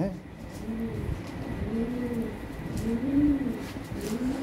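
Lahori pigeons coo in soft, repeated rolling calls, several overlapping phrases close by at a moderate level, with faint background noise.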